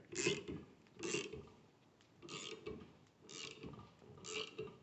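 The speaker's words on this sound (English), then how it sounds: "I just have to start cranking on it with a wrench, and hopefully it'll come off of there." A wrench cranks a puller on the rear axle of a 1985 BMW 633 CSi, making five slow ratcheting strokes about a second apart, each a close gritty creak of metal with quiet pauses between.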